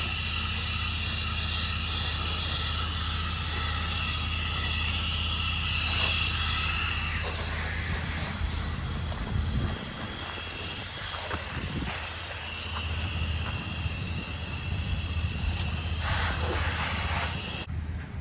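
A pressure washer sprays about 6 gallons per minute with the machine at around 40% while washing a house, giving a loud, steady, close hiss that shifts and roughens slightly partway through.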